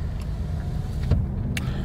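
A parked car in a store lot as someone gets in: steady low interior rumble with a brief door or window thump near the middle, no talking.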